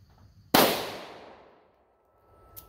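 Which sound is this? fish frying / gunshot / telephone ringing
gunshot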